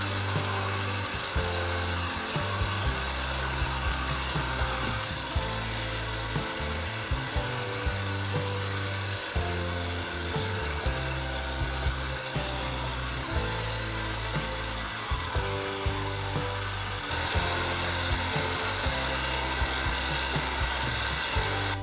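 A continuous loud motorized whir of an electric juicer squeezing citrus runs for the whole stretch, with faint irregular clicks and rattles throughout.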